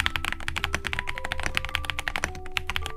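Fast, steady typing on an Akko Sanrio Kuromi mechanical keyboard with linear Akko V3 Piano Pro switches: dense, close clacking keystrokes in a continuous rhythm, with no voices.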